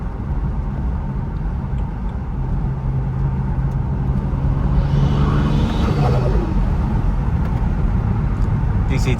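Another pull from a BMW 135i hybrid turbo with DCT transmission: a steady engine drone rises under road rumble, heard from inside the car with a voice talking over it.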